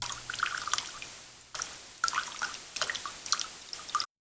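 Scattered water droplets from a synthesizer noise oscillator plinking and dripping in irregular bursts, fairly close and clear against a quiet background.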